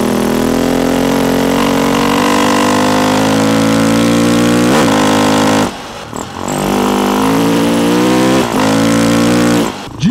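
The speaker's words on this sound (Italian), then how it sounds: "ho preso la moto e sono venuto a fare una giratina" A motorcycle rides along on a short leisurely outing with a steady, loud engine drone that rises and falls in pitch through gear changes and throttle shifts, with a brief drop near the middle.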